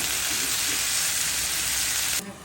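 Panch phoron seeds sizzling in hot oil while cooking a Bengali fish roe curry, a loud, dense, continuous crackling hiss that cuts off abruptly near the end, no voices.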